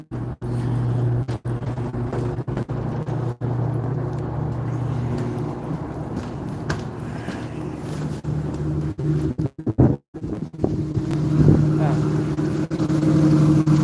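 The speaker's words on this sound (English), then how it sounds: "I think we got the genset working." A genset engine runs steadily with a low drone throughout, with people talking over it and brief dropouts near the middle.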